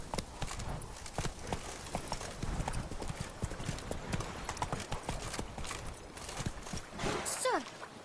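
A horse galloping in a PS4 game, steady rapid hoof clip-clops close by, with a brief whinny-like cry near the end and speech present in the background.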